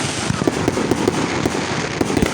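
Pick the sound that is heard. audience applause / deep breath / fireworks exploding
fireworks exploding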